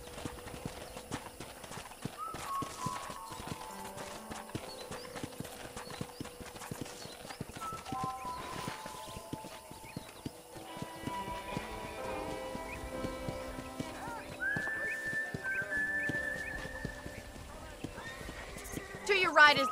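Horse hooves clip-clop and a horse neighs in the Red Dead Redemption video game, with a steady rhythm of hoofbeats running beneath game music and a speaking voice, and a brief whinny rising near the end.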